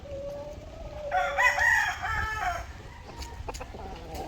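A rooster crows once, loud and clear, in a long drawn-out call over a low background hum, followed by faint rustling and a few soft distant sounds. No talking is heard.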